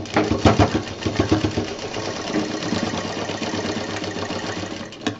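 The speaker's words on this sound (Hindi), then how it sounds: "और इसको यहाँ पे सिल देंगे।" A sewing machine stitches a fabric fruit cover with a fast, close mechanical chatter that starts in brisk bursts, then runs steadily and trails off into a final clack.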